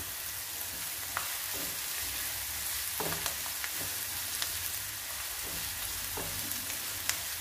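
Onion with crushed ginger and garlic sautés in a pan with a continuous soft sizzle, broken by occasional light taps and scrapes of a spoon stirring; quiet, with no talking.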